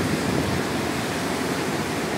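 Heavy floodwater roars out of the Koldam dam in Himachal after monsoon rains, a steady, dense rushing wash with spray, loud and continuous with no pauses.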